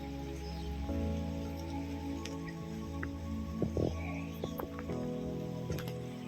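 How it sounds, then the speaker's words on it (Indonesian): Rain falls outdoors as a steady patter with scattered close drips and ticks, over a low continuous hum, with no voices. "Jadi kita di sini sembari hujan-hujan ya guys ya, tapi nggak apa-apa."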